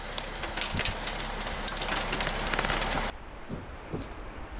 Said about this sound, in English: Giant hailstorm.